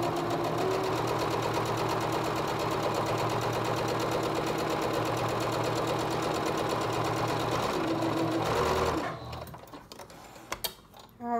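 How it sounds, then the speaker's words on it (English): A sewing machine stitches a straight quarter-inch seam on a fabric face mask, running steadily at a fast, even rhythm for about nine seconds before stopping, then faint handling noises. "we're gonna take that wide angle and sew a straight seam at 1/4 inch seam allowance"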